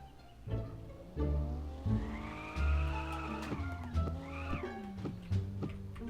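An Audi engine in the game Car For Sale Simulator revs up and down in repeated bursts with tire squeals and gear shifts, a synthetic motor whine rising and falling over several seconds.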